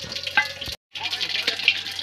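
Cumin and mustard seeds sizzle and crackle in hot oil for khichdi. The close, crisp frying is broken by a brief moment of silence.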